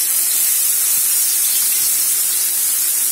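Garlic and green chilli paste sizzles in a hot cumin and mustard seed tempering, a loud, even, continuous hiss close by with no voices.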